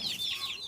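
A chicken gives a brief run of clucks while being fed fish waste, close and fairly soft, lasting under a second.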